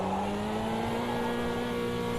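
Old steel tin-top race car in a racing video game, a steady engine drone holding near-constant revs throughout, loud and continuous with no voices over it.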